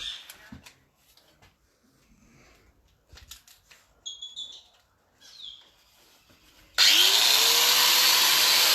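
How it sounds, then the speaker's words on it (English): Angle grinder cutting steel stock clamped in a vise for a chef's knife blank: a loud, sustained harsh whine kicks in abruptly near the end after quieter workshop handling noises. "We get our angle grinder. We must have our glasses on. And we start cutting."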